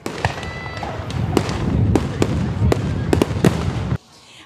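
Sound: annual fireworks display

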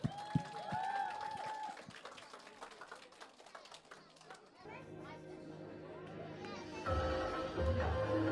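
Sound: audience applause for the children

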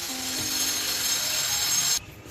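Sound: electric drill

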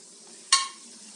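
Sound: lokma dough balls frying in oil, turned with a skimmer

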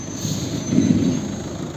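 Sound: diesel car engine idling

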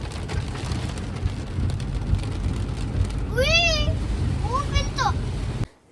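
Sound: heavy rain

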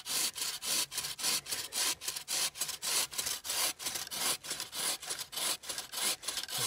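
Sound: hand saw cutting through a small tree

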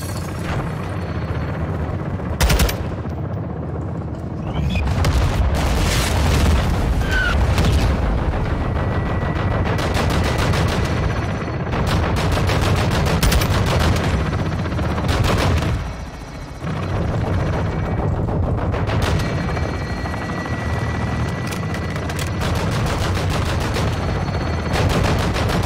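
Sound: gunfire from video game Call of Duty: Modern Warfare II

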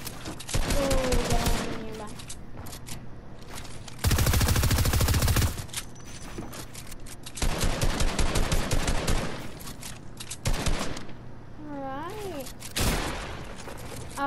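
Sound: rapid fire SMG gunfire in Fortnite video game

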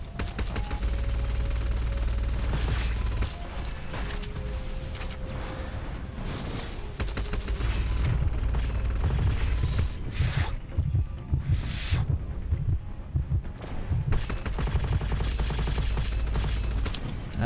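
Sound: chain gun gunfire in the video game Gunfire Reborn

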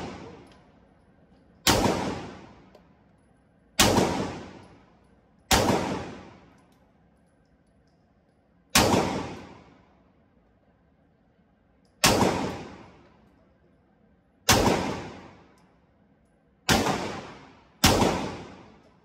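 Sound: MAC 11 gun being bump fired

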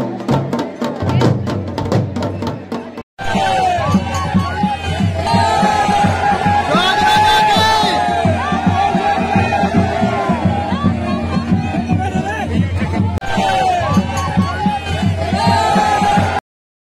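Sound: crowd at the Jakh Raja fair

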